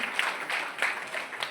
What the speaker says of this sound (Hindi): उनके लिए एक बार फिर से जबरदस्त ताली बजाइए